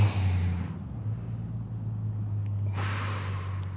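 Deep, steady breathing during a backbend yoga exercise, with a broad airy breath at the start and another after a pause, close and alone over a low constant hum.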